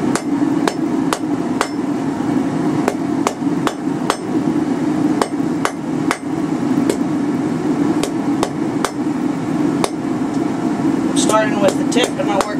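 Hammer blows forging a fine taper on a steel bar for twisted J hooks ring out in a steady, evenly spaced series of sharp, close strikes over a low background hum.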